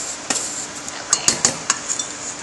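Butter and sugar are worked together in a bowl with a wooden spoon for snickerdoodle dough, producing a series of soft, irregular knocks and scrapes, close and fairly quiet, with no voices.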